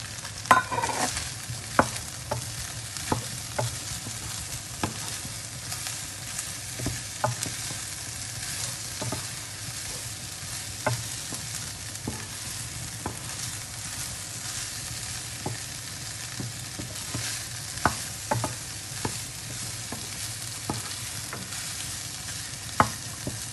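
Quartered mushrooms sauté for boeuf bourguignon, giving a steady close sizzle and hiss in the pan with regular light scrapes and taps from stirring throughout.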